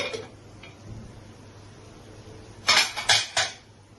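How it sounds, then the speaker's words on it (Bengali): A lid is lifted off a cooking pot of chicken chana dal curry, giving three quick metallic clinks close by after a quiet stretch. "তাহলে দেখুন ঢাকনাটা তুলে নিলাম"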